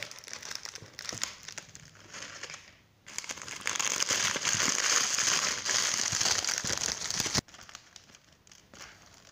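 Foil wrapping crinkled and torn off a Kinder Surprise Maxi chocolate egg, done one-handed, close up: scattered rustles at first, then a long dense burst of crackling foil before it drops back to light crinkles.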